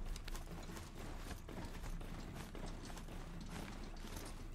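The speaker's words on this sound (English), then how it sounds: "Horsey." Mechanical horse mount from Horizon Zero Dawn trotting with steady metallic clip-clop hoofbeats and whirring, creaking gear mechanisms, close and continuous against low game ambience.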